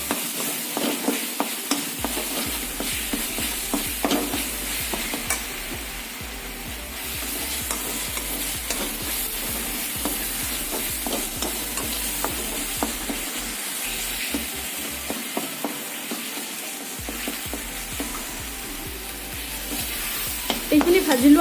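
Salt, turmeric and cumin fry in a pan, a constant hissing sizzle punctuated by rhythmic spatula scrapes and stirring knocks, close and loud.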